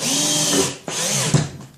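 A power drill drives screws into a wooden bench top in a fabrication shop, two bursts of whining motor close by, each ending in a brief bite as the screw seats.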